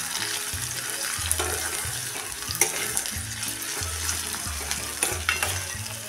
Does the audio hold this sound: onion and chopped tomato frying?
yes